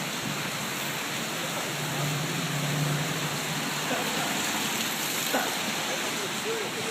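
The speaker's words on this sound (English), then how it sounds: "Yeah, it's raining out there." Rain falls outside beside the Hudson River in New York City during Hurricane Sandy, a dense, steady hiss of drops heard close and continuous, with faint background rumble.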